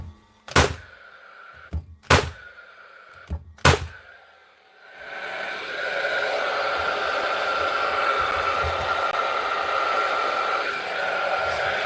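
A Paslode nailer gives three loud, sharp, evenly spaced clacks as it is pumped, then settles into a steady whirring hum that carries on without a firing snap.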